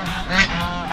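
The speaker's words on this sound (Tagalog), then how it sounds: "Yung mga gansa, ang gandang tignan." Geese honk in a short burst of nasal, overlapping calls at close range, a brief flurry of several honks.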